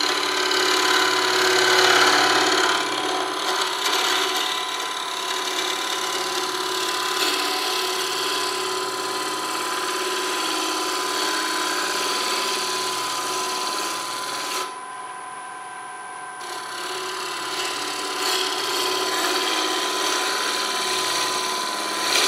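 A lathe gouge cuts into a very dry elm bowl blank, a steady close motor hum under a continuous rough scraping of wood, with a brief lull near the end before cutting resumes.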